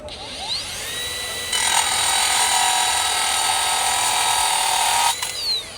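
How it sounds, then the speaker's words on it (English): A Makita 40V XGT cordless tool cuts through rebar with a loud, high-pitched grinding whine that holds for several seconds. The motor spins up first and winds down after the cut. "So let's go ahead and cut some rebar."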